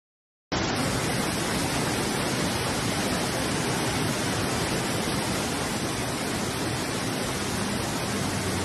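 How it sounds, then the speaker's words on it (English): Heavy rain pours down in a storm on the Italian coast, a dense, steady, loud hiss that starts abruptly and continues unbroken with no voices. "Guardate come piove"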